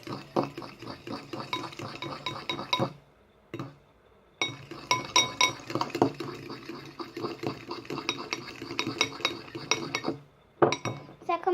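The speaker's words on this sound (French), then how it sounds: "J'ai pris ma fourchette et on mélange." A fork stirring a salted mixture in a bowl makes a rapid string of clinks and scrapes against the bowl. The close stirring runs almost continuously, broken by two brief pauses.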